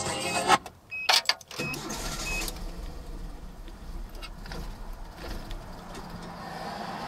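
A Nissan D21 Hardbody truck engine idles as a low steady rumble after a few sharp clanks and clicks of work in the engine bay, then it sputters and fades as it stalls.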